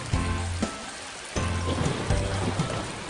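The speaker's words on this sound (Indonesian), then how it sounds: "Musim hujan pun akhirnya tiba." Steady rain falling at the start of the rainy season, a dense broadband hiss of drops on a surface with a few brief louder gusts, continuous for a few seconds with no voices.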